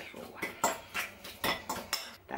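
Pet food being spooned into a bowl, with repeated clinking of cutlery against dishware in a steady rhythm, close and fairly clear with no talk.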